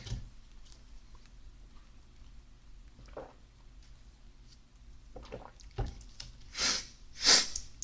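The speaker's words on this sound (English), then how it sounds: "My nose is just running a little bit, so I don't mean to sniff too much" A person with a runny nose sniffs softly in a quiet, close ASMR setting. Faint wet sniffs come first, then two louder, longer sniffs near the end.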